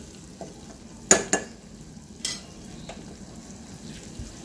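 Masala for jackfruit biryani cooks in a pan at a low, faint level, with a few sharp clinks and scrapes as it is stirred over a soft background.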